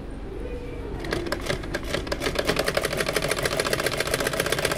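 A sewing machine stitching, with a rapid, even mechanical clatter that starts after a moment and keeps running steadily close by.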